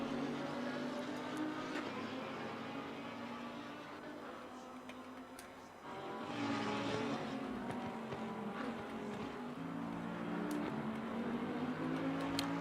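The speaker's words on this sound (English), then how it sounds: "there's Buckley right behind Uwe in the Lamborghini" A Lamborghini race car engine driving on a racing track, a steady droning engine note that rises and falls through gear changes, heard at a moderate distance, faint and continuous without speech.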